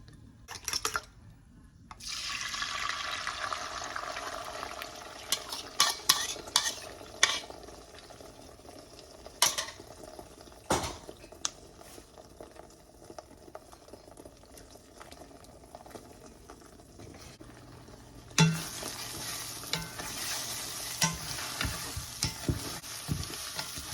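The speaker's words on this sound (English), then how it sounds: "Now we're going to cook the egg." An egg cooks in a hot frying pan for homemade fried rice, with a steady bubbling sizzle close by. Scattered scrapes and taps of stirring break through the hiss, which swells louder again near the end.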